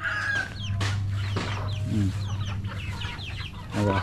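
Chickens cluck and squawk in a busy flock, several birds calling over one another at close range, with a steady low hum underneath.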